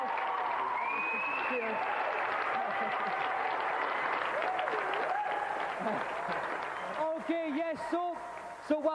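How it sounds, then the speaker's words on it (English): A television game show audience claps in sustained applause while a presenter talks over it, with cheering voices rising toward the end. "So let's give another round of applause"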